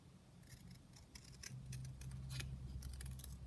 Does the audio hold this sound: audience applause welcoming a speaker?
no